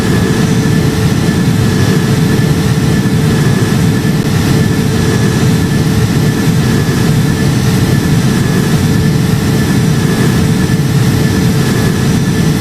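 KLM Airbus A330 jet engines climbing out in the flight simulator game Project Flight, a loud, constant low roar and whine that holds steady without a break.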